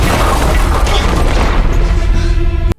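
Cheap-looking explosion effect from a Disney TV sitcom: a loud, sustained roaring boom with dense rumble that holds steady for nearly three seconds before cutting off abruptly.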